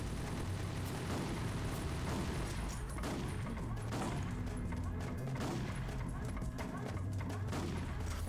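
Sustained machine gun fire in Ghost in the Shell: Stand Alone Complex, a dense rattling barrage of rapid shots running continuously throughout, with a voice talking over parts of it.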